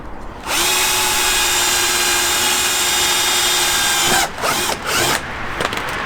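Power drill steadily boring a hole into the front splitter trim of a first-generation Audi TT, a loud continuous whine for several seconds before breaking into short bursts as the bit finishes.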